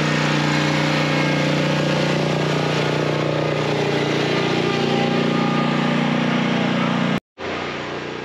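An Exmark 60-inch ride-on lawn mower with a Kawasaki engine runs loud and close, a steady droning hum with a strong low tone, cutting off abruptly near the end before resuming.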